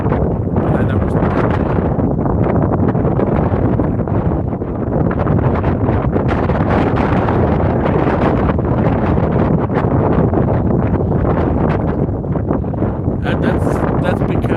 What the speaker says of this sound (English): It is very windy here at all hours of the day.